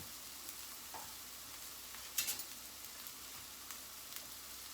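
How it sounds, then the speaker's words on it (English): Onions frying in a pan with a little flour stirred in, a soft steady sizzle with a brief louder crackle and scrape of stirring near the middle, no talking. "now, to these onions, we are going to add a little bit of flour"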